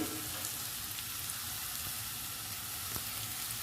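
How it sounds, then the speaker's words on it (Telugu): Ginger-garlic paste with cumin and coriander powder frying in hot oil for a beetroot fry, giving a steady, even sizzle alone with no talk. "అన్నీ వేయించుకోవాలండి ఆయిల్లో."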